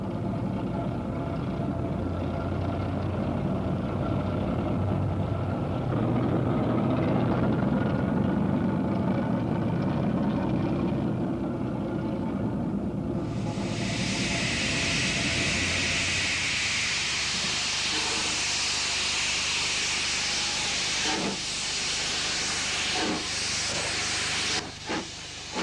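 Black Five steam locomotive departing, a steady rumbling chuff and rolling rail noise giving way to a loud sustained hiss of escaping steam, with a few sharp clanks near the end, fairly close.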